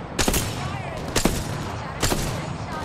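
Video game gunfire rips out in three loud, separate bursts of rapid shots, each cutting off sharply before the next volley, close and dominant in the mix.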